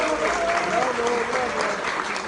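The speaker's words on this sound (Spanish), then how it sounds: "Recibámosla con un fuerte aplauso." Applause from an event audience welcoming a councillor, a steady dense wash of clapping lasting the whole moment, with faint voices mixed underneath.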